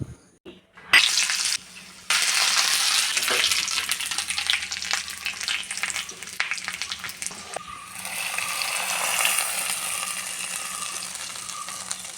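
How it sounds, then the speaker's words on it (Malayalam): Cashews and raisins frying in a pan for butterfly pea flower blue payasam: a sharp clatter as they go in, then a steady close sizzle with stirring scrapes and occasional light clinks. "അവസാനമായിട്ട് കിസ്മിസ് വണ്ടിപ്പരും കൂടി വറുത്ത് ചേർക്കാം"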